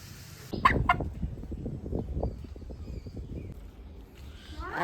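A village chicken clucks and calls close by in a few short bursts, with faint rustling and background noise around it.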